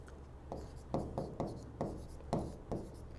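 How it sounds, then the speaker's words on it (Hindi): Chalk or pen writing a line on a board during a Class 10 maths lesson on real numbers: a series of short scratchy strokes in an uneven rhythm, close and moderately loud over a steady low hum, with no talking. "हम यहाँ एक लाइन लिखेंगे"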